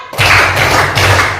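Children playing a classroom clapping game strike a quick, loud flurry of claps in short pulses, close and energetic, with no talk over it.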